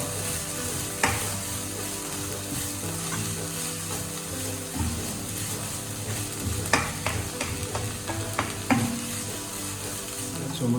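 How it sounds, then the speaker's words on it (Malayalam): Tomatoes being stirred and fried in a pan for paneer butter masala, a steady close sizzle with irregular spoon scrapes and clicks throughout, no talking. "ഒന്നുകൂടെ നല്ലതുപോലെ ഇളക്കി കൊടുക്കുക കുറുക്കുറുവായിട്ട് ഇളക്കി കൊടുക്കുക"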